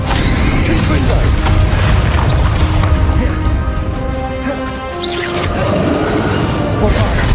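Confringo spell explosions blasting in Hogwarts Legacy combat amid other spell effects, a dense, continuous roar of booms and crashes with layered magical impacts throughout.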